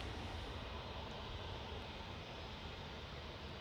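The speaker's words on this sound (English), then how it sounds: "Airbus A321 off to Munich." An Airbus A321 departing Manchester Airport, bound for Munich, gives a steady, distant broadband engine roar that stays even and fairly faint throughout, with no talk.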